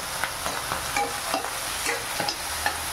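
Tomato softening in hot oil for rava upma, a soft continuous sizzle with light scraping stirs of a spoon in the pan, close and fairly quiet.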